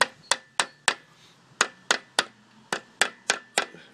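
An engine part on a 3VZE motor build being lightly tapped into place, about a dozen sharp, close metallic taps in an irregular rhythm over quiet background.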